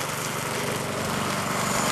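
A Duramax lawn mower engine running steadily at full throttle, a loud, close, continuous buzzing drone with no pauses and no voices.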